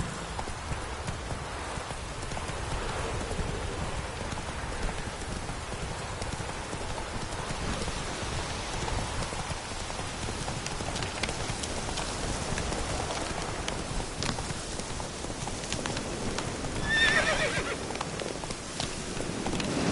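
Hooves of the horse Roach clip-clop steadily in The Witcher 3 over a continuous wash of rain, with a short whinny near the end, moderately loud and close.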